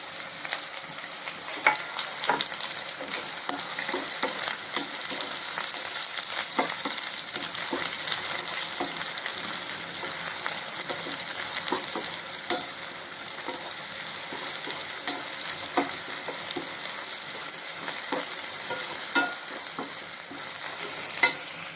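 Dried red chillies fry with crushed ginger and garlic in hot oil, a continuous crackling sizzle with frequent sharp spatters and ladle scrapes for over twenty seconds, close and unvoiced.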